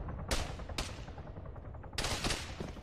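Gunfire in the military shooter Arma 3, including a heavy gunner firing 7.62 rounds: three sharp bursts, two close together early and a longer burst near the end, loud over steady low rumble with no talk.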